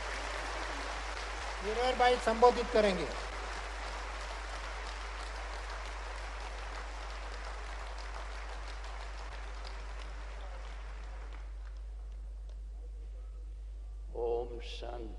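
An audience applauds throughout at the Brahma Kumaris family's 80th anniversary celebration, a steady and fairly faint clapping under a short stretch of speech near the start, then fading out before a voice returns.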